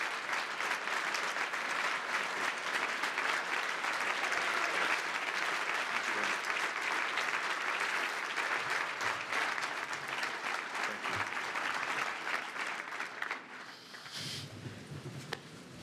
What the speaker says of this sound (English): Thought I'd just let the applause roll over you for the few moments there.